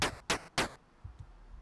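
Chiptune-style game effect of a bullet striking another bullet, three short bright noisy bursts in quick succession as variations, followed by faint low thumps and a tiny tick, crisp and close.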